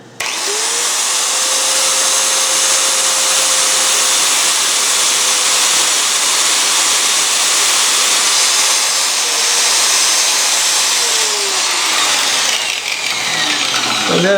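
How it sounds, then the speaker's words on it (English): An angle grinder fitted with a thin cut-off wheel saws into a metal heat shield clamped in a vise, a loud, steady high-pitched whine with a grinding hiss that holds for the whole stretch, no voices. "And then I'm using angle grinder with the thin cut wheel."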